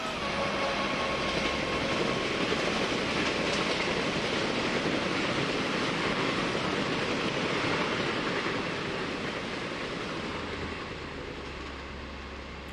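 The Tejas Express runs through Indian Train Simulator with a continuous, even rumble and a faint clickety-clack of wheels on rails, unbroken and steady throughout, with no voices.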